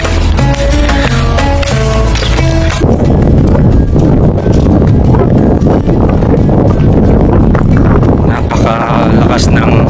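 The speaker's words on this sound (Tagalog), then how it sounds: "Napakalakas ng hangin." Strong sandstorm wind in Riyadh, Saudi Arabia, roars and buffets the microphone in a loud, constant rush, following a few seconds of music at the start.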